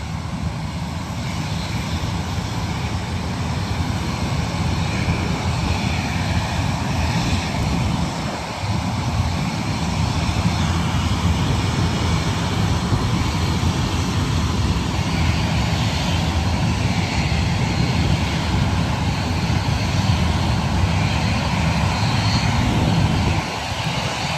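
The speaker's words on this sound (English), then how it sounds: "The noise of a 737-800 and an ATR 72 right there." Engines of a Boeing 737-800 jet and an ATR 72 turboprop at Bristol Airport, a continuous loud broadband roar and whine holding steady throughout with no talking.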